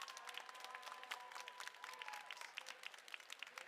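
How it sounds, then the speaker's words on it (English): A crowd at a robotics championship event applauds steadily throughout, with dense, even clapping that sounds somewhat distant and moderately quiet, alongside a faint tonal whine. "Give a round of applause there for Paul."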